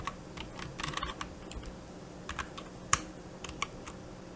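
Keystrokes on a computer keyboard while a measure title is typed in Power BI, a quick irregular patter of light clicks with one sharper tap near the end, close and fairly quiet.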